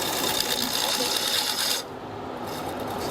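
A wood lathe turns a punky pine bowl blank while a tenon is cut, a steady whirring scrape of the tool on the wood that drops off abruptly partway through, leaving a quieter motor hum.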